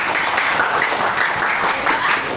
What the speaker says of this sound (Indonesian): saya tepuk tangan buat Pak